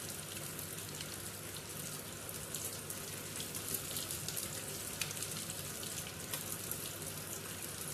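Fish fries in a pan with a steady, soft, crackling sizzle that continues throughout at a low level, with no voices.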